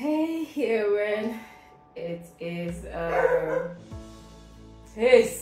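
A pet dog gives a few short barks and yips close by at home, mixed in with a person talking.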